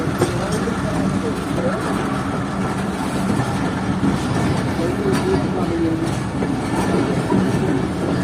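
Steady rolling rumble and clickety-clack inside a coach of the Sukkur Express, a night passenger train leaving Sukkur for the Ayub Bridge over the Indus, with faint voices mixed into the continuous noise.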